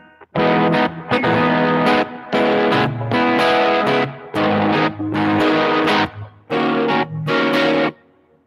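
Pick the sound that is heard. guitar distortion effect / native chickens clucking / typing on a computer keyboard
guitar distortion effect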